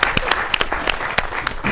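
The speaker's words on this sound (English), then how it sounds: "Let's give a round of applause to Victor Roberts." Applause from a crowd at a United Patriots political gathering in Siparia, sharp distinct claps sounding close and irregular, moderately loud, as if from a smallish group.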